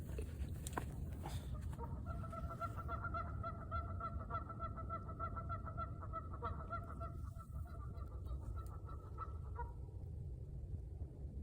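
A duck calling on the Willamette River, a series of steady repeated quacks or honks in even rhythm, moderately near, over a constant low rush of water and wind, with no talking.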